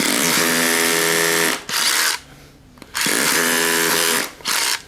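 A Stanley Fatmax SDS Plus masonry bit drills into concrete, two loud sustained bursts of whining, buzzing drilling, each about two seconds long, separated by a quieter pause, with a short extra burst at the end.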